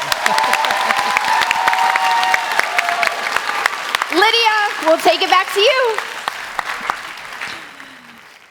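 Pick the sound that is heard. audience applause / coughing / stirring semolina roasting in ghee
audience applause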